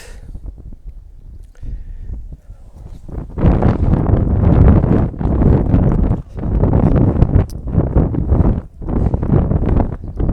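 Strong wind gusts across an open mountain area at Melchsee-Frutt in Obwalden, starting as a light breeze and then roaring loudly in sustained broadband buffets against the microphone for most of the clip.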